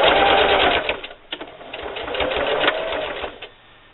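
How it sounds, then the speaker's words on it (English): Home sewing machine running a straight stitch on a drawstring backpack, a close, steady mechanical whir with brief pauses and restarts over a few seconds. "And then just keep sewing."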